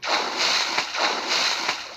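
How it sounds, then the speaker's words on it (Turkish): Water splashes and sloshes in a hungry-shark video game, coming in rhythmic repeated bursts of dripping and splattering at a moderate, steady loudness. "Ne oluyor arkadan hala şıpır şıpır ses geliyor"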